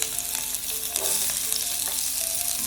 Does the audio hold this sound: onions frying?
yes